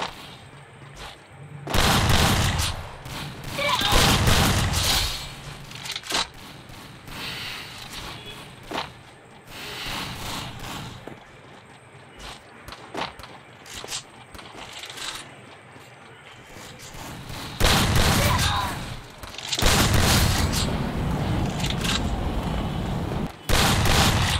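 An M1887 shotgun in a video game training ground fires heavy blasts in clustered bursts, loud and near, separated by quieter stretches of mechanical clicks and footsteps.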